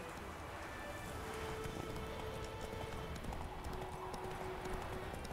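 Rapid hoofbeats of a horse clip-clopping along in The Witcher 3, fairly faint under a continuous ambient background with a few tonal game-like sounds.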